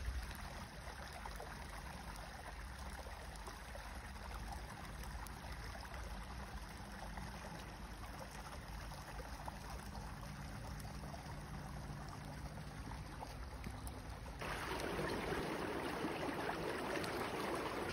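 A stream flows steadily through the Waterloopbos nature reserve in the Netherlands, a continuous close rushing wash that swells louder and fuller for the last few seconds.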